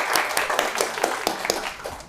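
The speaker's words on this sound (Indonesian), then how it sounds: "kasih tepuk tangan buat Dek Dayinta" Students in a university lecture clap for a classmate, a short burst of scattered applause with several distinct claps standing out, moderately close and not loud.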